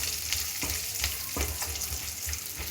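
Two broken green chillies fry in hot oil for a paneer curry, a steady close sizzle broken by soft rhythmic stirring scrapes roughly every half second, with no voices.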